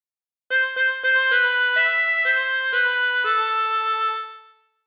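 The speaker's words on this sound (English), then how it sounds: "practice this until you end up with something that sounds like this" Harmonica playing the melody of Bella Ciao, a clear, bright reedy line of separate notes stepping through the phrase, close and alone with no talking.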